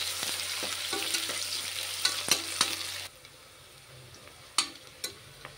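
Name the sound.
sliced onions frying in a pan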